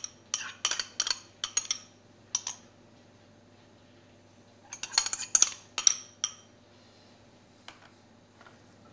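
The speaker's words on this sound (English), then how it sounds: "I'm just going to gently break up my yolks" A fork gently breaks up four egg yolks and one whole egg in a flour well for saffron pasta. Quick, light clinking taps come in two short bursts, with quiet pauses and a faint hum between them.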